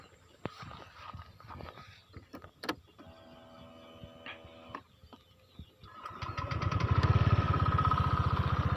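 A rescue service's fast-response vehicle is started after some clicks and a short electronic tone sequence, then its engine catches and settles into a loud, steady, rumbling idle close by.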